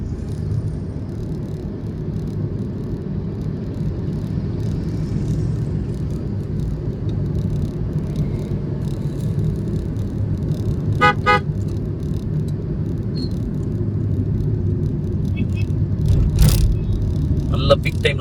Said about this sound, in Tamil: ஃபுல் டிராஃபிக்கில் இருக்குது